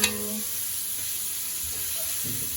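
Tomato slices for Mamak-style mee goreng sizzle in a hot pan, giving an even, close frying hiss with a brief voice at the start and some stirring sounds near the end.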